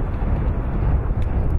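Wind blowing outdoors around a mid-century home's courtyard on a windy day, a steady low rumble buffeting the microphone throughout, with no talk.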